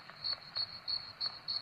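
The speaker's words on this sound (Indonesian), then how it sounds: "Suara jangkrik." Crickets chirping in the mobile horror game Scary Neighbor 3D, five short, evenly spaced high chirps over a faint low background hum, no one talking.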